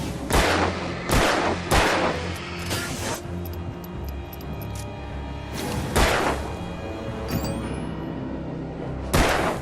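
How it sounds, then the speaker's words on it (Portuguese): Gunfire in the video game Alan Wake: several loud, sharp shots ring out at irregular intervals, each with a booming low tail, over a quiet background. "Toma tiro, toma tiro."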